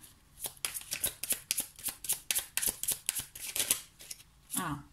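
Tarot cards being shuffled by hand, a quick run of soft close riffling snaps in an uneven rhythm, fairly quiet.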